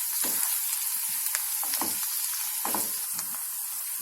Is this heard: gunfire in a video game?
no